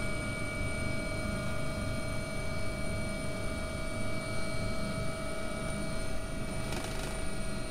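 Simulated AgustaWestland AW139 helicopter in X-Plane 11, a steady, loud rotor and turbine drone with constant whine tones, holding evenly throughout with a brief rise in hiss near the end.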